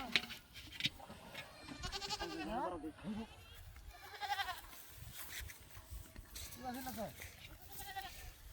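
Goats at a livestock market bleat repeatedly in wavering cries, some close and loud, mixed with people talking and haggling nearby.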